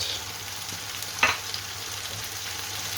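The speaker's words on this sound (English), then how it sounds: "And we're going to give that a good stir" Homemade curry powder, green chilies and salt for a lamb madras fry in a pan with a continuous close sizzle; one sharp clack of the spoon against the pan comes partway through.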